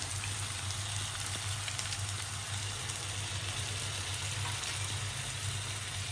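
Turmeric and onion-garlic masala frying in a pan for a Kolhapuri curry, producing a continuous soft sizzle with a low hum underneath. There is no talking.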